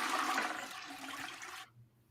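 A toilet flushes in a loud, rushing gush of water that cuts off abruptly near the end, leaving near silence.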